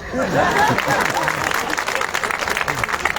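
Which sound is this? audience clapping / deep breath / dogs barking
audience clapping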